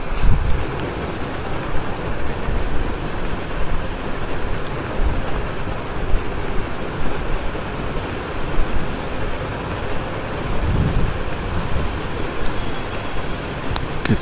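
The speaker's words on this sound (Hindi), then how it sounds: "चल पड़ी ट्रेन, चल पड़ी" A train rolls along steadily in the video game Project IGI 2 Covert Strike, a loud continuous rumble of wheels and carriages, with heavier thumps near the start and again midway.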